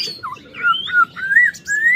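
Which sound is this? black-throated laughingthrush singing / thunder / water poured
black-throated laughingthrush singing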